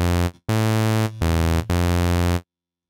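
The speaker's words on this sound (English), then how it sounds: "let's go to our vital init patch" The default init patch of the Vital synthesizer gives a plain, buzzy tone, played as four short, loud sustained notes with brief gaps between them and then silence.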